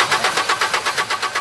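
Four-wheel drive engine cranking and trying to start, a fast repeated churning rhythm of about ten even pulses, close and fairly loud, with no voices over it.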